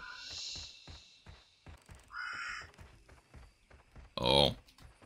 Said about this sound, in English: Heard some birds.